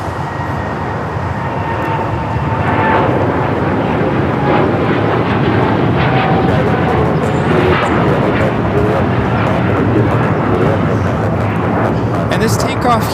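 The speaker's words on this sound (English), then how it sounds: "And this takeoff here is United Airlines 198 taking off to Shanghai on the 787-9 Dreamliner." A United Airlines Boeing 787-9 Dreamliner jet takes off at Los Angeles airport, its engines producing a loud, steady roar that swells after a couple of seconds and holds, with people talking over it.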